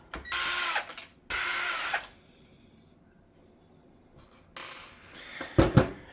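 A power screwdriver takes small screws out of the bumper pad of an Ecovacs Deebot 950 robot vacuum, with two short close whirring bursts, a quiet pause, then a longer burst ending in clattering knocks.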